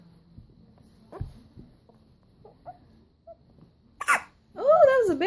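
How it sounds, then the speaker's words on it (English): A small child hiccups several times in short, soft bursts spaced through quiet moments, followed by louder whiny vocal sounds, with an adult voice nearby. "You got the hiccups."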